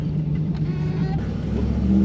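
A 1986 Chevrolet Camaro Z28 V8 engine revs in a short blip, a throaty, steady roar heard close and loud, rising slightly toward the end.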